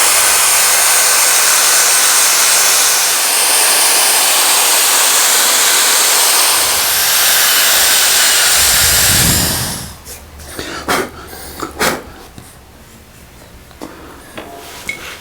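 A steel brush scrubs debris off the cylinder block of a Massey Ferguson 23C tractor engine, producing a loud, continuous hissing scrape up close that stops abruptly, leaving a few faint clicks and taps.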